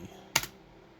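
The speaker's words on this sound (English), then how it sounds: "So go on ahead and hit any key." A single sharp key press on a computer keyboard during setup of an emulated 486 PC, one crisp close click in a quiet room.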